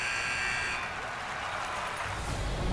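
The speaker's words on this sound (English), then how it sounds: "There's the horn." In the NHL 25 hockey video game, a long buzzing horn sounds to end the period, loud and sustained over dense arena crowd noise.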